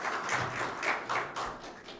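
Congregation clapping hands together during a church worship service, a steady stream of overlapping claps with soft rhythmic pulses, moderately loud and close, with no talking over it.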